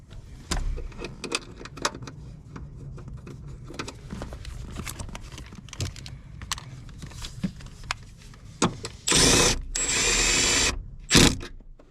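A power tool runs nearby while a 10mm nut is fastened onto a ground stud in a 1994-2001 Integra engine bay, with scattered clinks and tool clatter before two sustained whirring bursts near the end.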